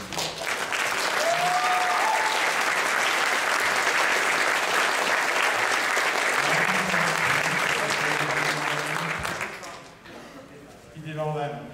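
An audience at a furry convention's closing ceremony gives a long, loud round of applause, dense clapping and cheering that fills the room for about ten seconds before fading, with voices emerging as it dies down.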